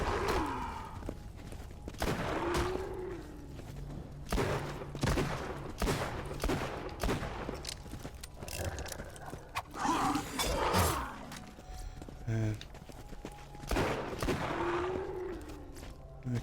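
Borderlands 2 gunfire aimed at skags, a sequence of sharp separate shots and short bursts spaced through the fight, with creature growls and mechanical clicks between them.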